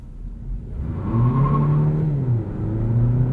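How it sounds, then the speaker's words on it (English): A 2020 Hyundai Ioniq Plug-In Hybrid launches hard from a stoplight in sport mode with wheel spin, its engine note climbing steadily and close, one continuous rising whir with a brief dip before building again. "Wheel spin in a hybrid"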